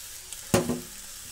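A single quick stir of Chinese cabbage salad in a hot pan makes a short scraping swish over a low sizzle. It is close and brief, with no talk.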